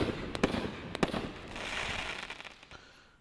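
Brothers Pyrotechnics Straight A's ball show fireworks: a few sharp distant bangs up front, then a continuous crackling hiss that slowly fades, heard alone without voices.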